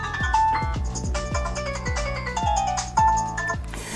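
An Itel 2163 phone ringtone: a bright electronic melody of plucked, chiming notes over a steady beat, repeating in a short looped phrase, loud and clear with no talking.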